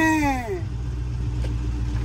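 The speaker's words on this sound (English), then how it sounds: "I'm going to rev this car up, close the hood." A 2019 Dodge Charger Hellcat engine revs, its pitch sweeping downward as the throttle closes, then settles into a low, steady rumble close by.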